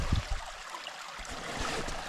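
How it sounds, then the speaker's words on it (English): A small stream running through snowy Swedish countryside gives a steady, broadband rush of flowing water, moderately close and continuous, with a couple of low thumps near the start. "Right ahead, I hear a water stream"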